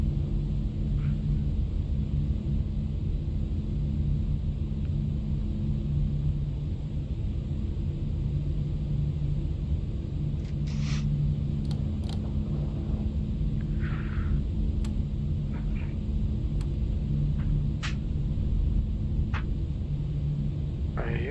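An Airbus A340 roars under reverse thrust after landing in a flight simulator game, a steady, heavy low rumble that holds throughout, with faint clicks and brief tones now and then.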